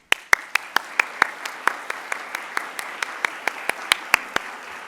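Scattered, sparse applause from an audience greeting a guest speaker at a lecture on Latin American migration: about twenty distinct sharp claps at a slow, uneven pace, moderately close, with no talk.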